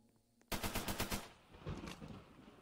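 An MG42 machine gun in a zombies video game fires a loud rapid burst of about eight evenly spaced shots, then its echo and clatter fade over the next second or two, with no talking.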